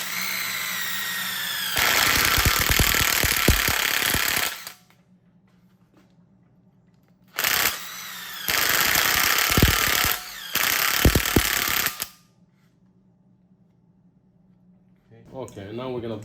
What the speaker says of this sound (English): a good size wire wheel for these holes and scratch the paint